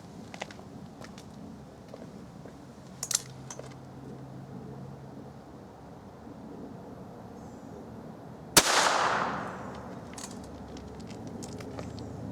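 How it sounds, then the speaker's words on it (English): A single sharp .22 LR gunshot with a Winchester Silvertip 37-grain plated segmented hollow point, cracking outdoors after quiet ambient noise, followed by a brief fading echo, with faint clicks beforehand. "Lastly, we're going to try the Winchester Silvertip 37 grain plated segmented hollow point bullet."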